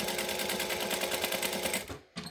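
Sewing machine stitching fabric for a Carissa clutch, a fast steady mechanical whir with even needle pulses, close and loud, stopping abruptly near the end before a brief restart.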